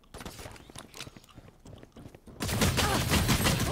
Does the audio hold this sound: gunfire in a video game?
yes